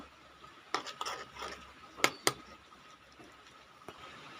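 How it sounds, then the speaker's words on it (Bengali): Gram flour (besan) batter being mixed in a bowl, faint scattered scrapes and clinks of a spoon against the bowl, with a few sharper taps and no talking. "এবার এটাকেও আমরা ভালো করে ব্যাটারটাকে বানিয়ে নেব"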